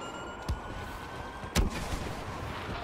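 Grenade explosions in the Star Wars Battlefront video game: two short, sharp blasts about a second apart over steady low in-game background noise, no voices.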